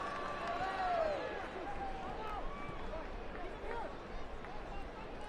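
Football stadium crowd murmuring approvingly at a soccer match, a distant broad swell of voices and light clapping, under a commentator talking.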